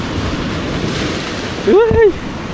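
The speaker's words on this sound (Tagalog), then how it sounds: "Alon yan." Ocean waves wash around a fishing boat at sea, a steady rushing surf roar buffeted by wind, with a brief voice rising near the end.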